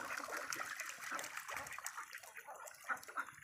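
Ducks on a Philippine farm bathe and splash in water, giving soft, continuous trickling and splashing with a few brighter splashes, heard faintly and close up.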